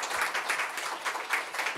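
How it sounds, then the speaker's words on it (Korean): Brief applause from a church congregation welcoming visiting children, a soft, even patter of many hands clapping at moderate distance with no voices over it. "So please welcome them with a round of applause."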